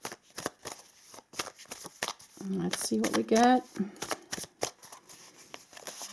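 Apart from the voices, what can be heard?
shuffling tarot cards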